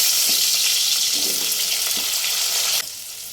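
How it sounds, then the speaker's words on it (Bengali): Cut potatoes drop into hot tempered oil, which sizzles loudly and close, with a few soft plops as pieces go in. The hiss is constant, then drops abruptly to a quieter level near the end. "কেটে রাখা আলুগুলো সব এক এক করে দিয়ে দেবো।"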